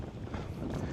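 Steady wind buffeting the microphone on a fishing pier at St. Simons Island in the early morning, a continuous low rumbling roar through the whole brief moment.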